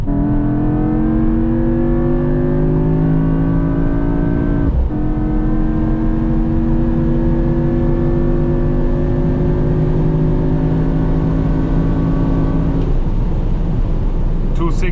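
A Mercedes-AMG GT63 hybrid V8 pulls hard on the German Autobahn, its engine droning loud and steady with rising harmonic pitch, broken by two abrupt gear changes, heard from inside the cabin.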